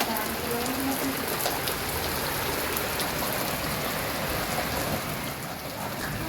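A heavy rain shower falls steadily and close by, a dense even hiss of drops pattering on surfaces with no pauses and no voices.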